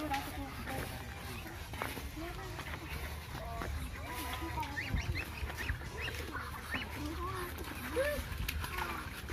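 Ducks bought at a village market give repeated honking quacks scattered across the whole stretch, moderately close, mixed with people chatting and bargaining in the background.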